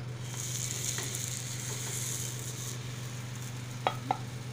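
Puran poli flatbread roasting on a hot griddle, a quiet, even sizzle with a low steady hum beneath it and a couple of soft clicks near the end.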